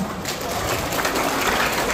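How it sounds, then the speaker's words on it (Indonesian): Audience applause during a Quran recitation event, continuous clapping at moderate loudness, with faint voices underneath. "Tepuk tangan lagi dong semua."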